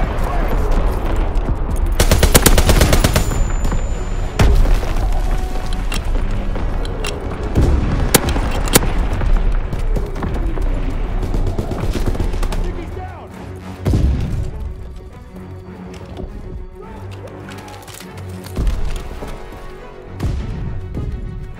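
Gunfire and artillery explosions in the Call of Duty WWII video game, with loud bursts of rapid shooting, heavy booms and crashes layered densely throughout, plus occasional game voices.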